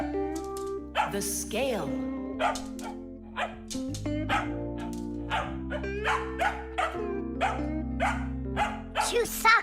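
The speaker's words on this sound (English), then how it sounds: "she's just a dog" A cartoon dog barks and yips repeatedly in short bursts, loud and close, mixed with animated character voices and music.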